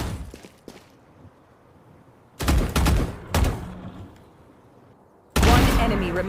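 Gunfire in the tactical shooter Valorant: loud bursts of rapid shots in separate volleys, with a quieter gap between them and a final heavy burst near the end.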